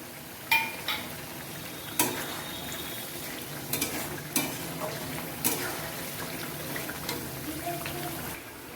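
Spice paste with sugar frying in a pan for a mutton curry, a steady low sizzle broken by repeated clinks and scrapes of a spoon stirring against the metal, close up.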